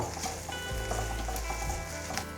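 Garlic, ginger and the white part of spring onions fry in a tablespoon of hot oil, giving a close, steady sizzle with a few crackling bursts throughout and no voices.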